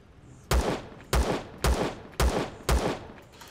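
Pistol fire in the game Empyrion Galactic Survival: five loud, close, sharp shots at a steady pace of roughly one every half second, each followed by a short decaying tail.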